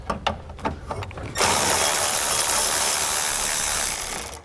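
A ratchet with an extension removing a bolt while fitting a Roadmaster crossbar-style base plate on a 2016 vehicle: a few sharp clicks and taps at first, then a loud, continuous close-up whirring rattle that runs steadily to the end.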